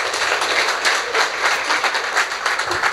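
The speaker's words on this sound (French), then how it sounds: "Donc, applaudir, s'il vous plaît." Applause from an audience at a presentation of an open innovation programme, a steady dense wash of clapping filling the whole stretch at a fairly loud, even level with no talk over it.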